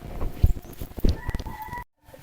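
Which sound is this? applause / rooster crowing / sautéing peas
rooster crowing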